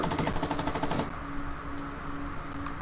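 A tank's machine gun rattles in a rapid, loud burst for about a second in a video game, then cuts off, leaving a low hum with a few faint ticks.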